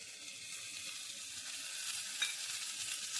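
Soaked chana dal and green peas sauté in hot oil for a beetroot stir-fry, giving a steady, close hiss of sizzling with a faint scrape of stirring partway through.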